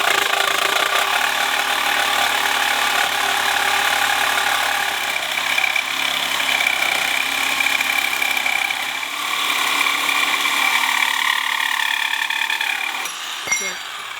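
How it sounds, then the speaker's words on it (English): Corded Milwaukee Sawzall reciprocating saw with a 6-inch 7 TPI blade cutting heavy metal, orbital action off, gives a loud, steady buzzing and grinding drone up close for about thirteen seconds before stopping abruptly. "This is a 6-inch 7 TPI blade right here for heavy metal cutting"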